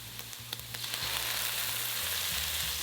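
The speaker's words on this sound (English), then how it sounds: "Add the Shaoxing wine," Shaoxing wine hits a hot stir-fry of garlic and ginger, setting off a loud, steady sizzle that swells and holds after a few clicks of the pan.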